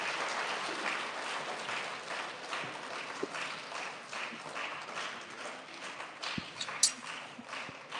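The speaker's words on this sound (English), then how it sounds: "Big round of applause for our bus recipients." Audience applause for student award recipients at an elementary school recognition ceremony, a soft, even patter of many hands that carries on steadily throughout with no talk.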